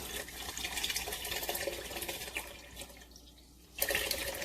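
Chicken broth pours from a carton into a soup pot for spinach, kidney and garbanzo bean vegetable soup, a steady close liquid splashing that thins out briefly before resuming.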